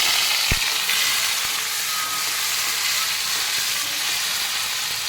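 Chopped tomato fries in a hot pan for a vegetarian bhindi dish, a steady loud sizzle and hiss throughout with one brief knock near the start.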